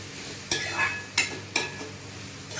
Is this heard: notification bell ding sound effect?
no